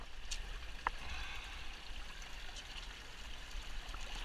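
A shallow creek flows steadily in the outdoors where agates are being hunted, giving a constant, fairly quiet broadband wash of trickling water with a single faint click partway through and no voices.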